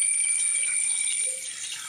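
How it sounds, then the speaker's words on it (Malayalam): Water rushes from a household pipe tap in Koothattukulam after a month and a half of water shortage, a steady, close, hissing flow with no voices, easing slightly toward the end. "ഇന്ന് പൈപ്പിലൂടെ വെള്ളം വന്നിരിക്കുകയാണ്."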